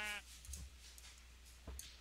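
A sheep in a creepy survival video game bleats twice in quick succession, short nasal cries that stand out faintly over a quiet game backdrop after a brief opening tone.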